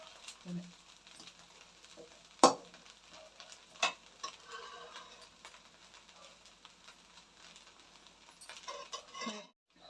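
Spoon stirring hot cooked rice with masala in a pan for green palak rice, giving soft scraping and faint sizzling with a few sharp clinks of utensil against metal.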